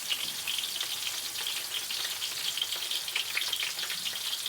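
Onions frying with curry leaves in a pan, a dense bright crackling sizzle that runs steadily throughout, close and without any voices.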